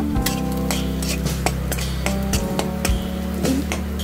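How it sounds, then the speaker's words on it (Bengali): Chopped onion, garlic and dried chili frying in hot oil, a steady close sizzle with rhythmic clinks and scrapes of a spoon stirring against the pan. "তেল গরম হয়ে গেছে, এগুলো আমি তেলে দিয়ে দিলাম। এগুলো আমি লাল লাল করে নেব।"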